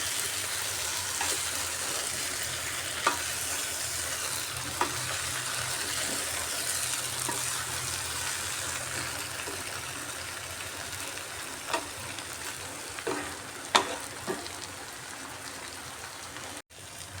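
Jackfruit curry masala being stirred in a pot, a soft rain-like crackling sizzle with scattered scraping knocks from the spoon, fairly quiet and continuous.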